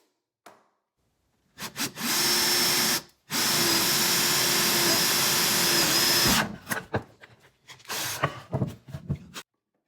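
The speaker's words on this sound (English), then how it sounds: "drill yourself 2 holes" A power drill whirs loudly in two long bursts, drilling holes in a prototype Japanese breastplate, stopping briefly between them, followed by clattering and handling noises as the tool is set down.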